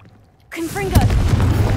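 A Confringo blasting spell goes off in Hogwarts Legacy: a swooshing burst of rising whistles erupts into a loud, sustained crackling blast that keeps roaring to the end.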